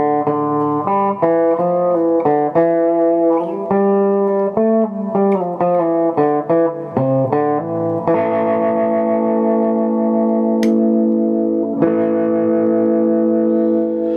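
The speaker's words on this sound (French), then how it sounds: "on a un son très intéressant avec de la distorsion, un son très bon" PRS Swamp Ash electric guitar from 1997 played through distortion on the bridge pickup, with a run of quick picked notes giving way to sustained, ringing chords, loud and close throughout.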